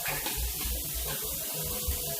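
Tap water runs steadily while aloe vera is rinsed, a continuous splashing stream close by with no talking.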